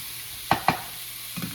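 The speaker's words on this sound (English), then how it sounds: "I'm just gonna keep kind of moving it so that it gets a nice golden brown color and the onions get cooked all the way through." Onions and sausage hash brown in a pan, a soft steady sizzle under two quick scraping stirs, followed by a fainter third scrape.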